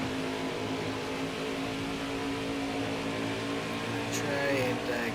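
A race car engine in NASCAR Heat 5 at Homestead Miami Speedway drones at a steady high pitch, loud and continuous, with a faint voice briefly underneath.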